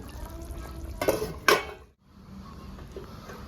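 A lid is lifted off a pan of sol fish cooked with green mango, giving two quick metallic clinks close by, followed by a soft hiss of the drying pan and a brief quiet.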